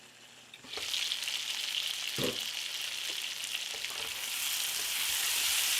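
Potatoes frying and charring in a pan alongside a steak dinner, a continuous close sizzle that swells after the first second and holds steady, with a few faint clicks and no voices.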